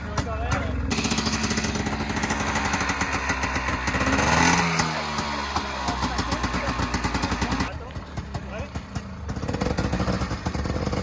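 A buggy's air-cooled engine runs close and loud, its rough, rapid putter rising in a brief rev and dipping before settling back, while people talk over it.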